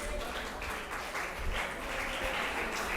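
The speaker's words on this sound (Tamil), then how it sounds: "சொன்னவருக்கு ஒரு கைத்தட்டு கொடுத்துருங்க" An audience at a discussion forum event claps for a correct quiz answer, a moderately loud, even patter of many hands held for a few seconds.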